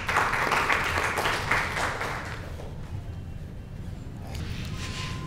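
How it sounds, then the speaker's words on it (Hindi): A crowd at an awards ceremony breaks into dense applause to welcome a speaker. The clapping is loudest at first, then fades into a softer wash of room noise. "हुड्डा सर के लिए ज़ोरदार तालियों से उनका स्वागत करें"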